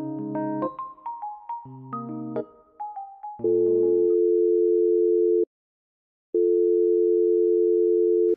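A phone call in the Sakura School Simulator game plays a short melodic ringback jingle of stepped tones, then a long steady sine-like dial tone that cuts out and returns, clear and alone.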